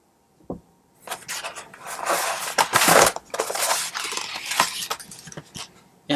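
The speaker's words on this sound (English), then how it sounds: "that's the garbage truck." Garbage truck working outside, heard as a run of loud crushing, crunching and clanking bursts that swell and fade over several seconds, with a short knock before it; no voices.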